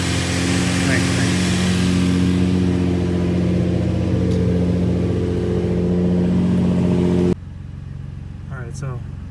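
An Infiniti G35 car engine idles after warming up, a steady humming drone with a low, even pulse, close and continuous, then cutting abruptly to quieter background where a person talks.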